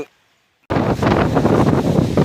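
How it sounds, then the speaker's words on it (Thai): After a brief near-silence, a loud, sustained roar of strong wind buffets the microphone with gusty rumbling during a summer storm over a durian orchard in Thailand. "นี่ครับความแรงของลมนะครับ"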